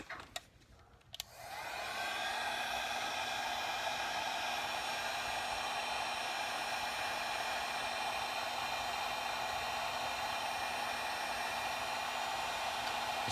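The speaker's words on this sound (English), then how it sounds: "So what you do is grab a heat gun." A heat gun switches on after a couple of soft clicks and blows a steady, close, even hiss, shrinking insulation over a wire, with a faint whine in the rushing air and no talking.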